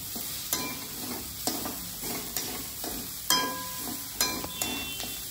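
Coriander powder, fennel powder and salt being stirred together in a pan: soft background sizzle with regular, distinct spoon scrapes and taps roughly every second, fairly quiet and without talk.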